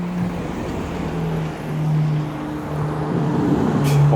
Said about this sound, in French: Regardez la Ferrari.